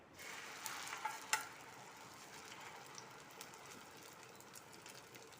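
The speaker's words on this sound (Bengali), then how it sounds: "তেলটা গরম হয়ে গেছে, এবার আমি ডিমটা দিয়ে দেবো।" Egg frying in hot mustard oil in a pan, a faint, steady sizzling hiss with a few small crackles and pops near the start, with no talking.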